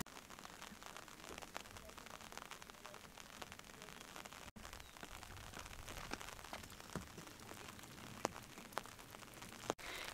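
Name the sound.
rain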